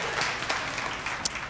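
A church audience claps warmly, a dense, steady patter of many hands filling the short stretch at even loudness, with one sharper clap standing out near the end.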